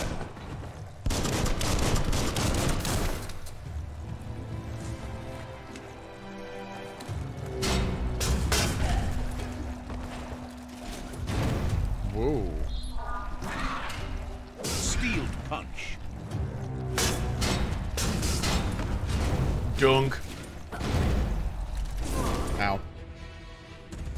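Gunfire in the video game Biomutant, with dense, repeated loud bursts of shots and mechanical clacks throughout amid action sounds and game effects.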